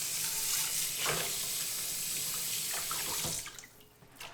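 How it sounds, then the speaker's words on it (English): A cast iron pan gets rinsed under running tap water in a sink, with a steady broadband rush of water and a few brief splashes and clatters, easing off near the end. "Give it a rinse."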